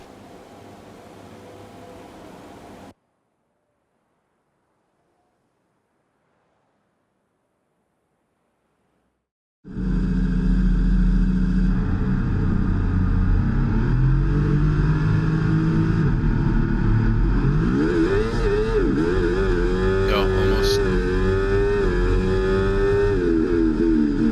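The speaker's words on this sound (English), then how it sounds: "As the cars come back towards the grid to line up for the start of the race" Racing cars in the F1 24 video game at Jeddah return toward the grid, engines droning loudly and revving with rising and falling pitch after a stretch of near silence, with no talk.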